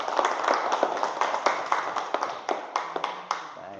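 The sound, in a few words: classroom applause for a student group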